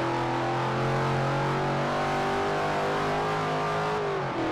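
A classic pre-1980 car in the Forza Horizon racing game revs loud and close, its engine note holding a steady, rising drone for several seconds before dropping off at the end.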